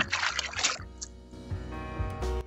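Tide laundry soap poured into a basin of wash water, a brief splashy rush of liquid at the start that fades into quieter background sounds.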